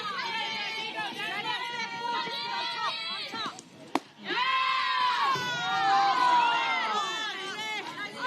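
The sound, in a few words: softball crowd groaning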